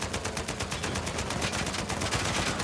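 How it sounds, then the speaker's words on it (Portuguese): Rapid automatic gunfire rattles out in a firefight in the video game Uncharted 4, with shots fired in a fast, evenly spaced burst that runs loud and unbroken for the whole stretch and has no talk over it. "Os caras dando tiro."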